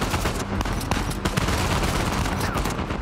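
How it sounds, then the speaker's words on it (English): Gunfire from below in Uncharted 4, set in Scotland: a dense, continuous fusillade of overlapping shots, loud and unbroken across the whole moment. "Is someone shooting me from below? Yeah, they definitely are."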